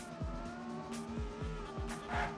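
Racing cars in an esports video game race roar through repeated quick gear-change sweeps, engines rising and dropping in a steady rhythm, fairly quiet and thin, with a brief tire-squeal-like burst near the end.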